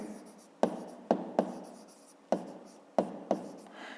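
A pen writes a math solution by hand on paper, producing six or seven sharp taps, each followed by a short scratching stroke, spaced irregularly, close and fairly quiet, with no voices.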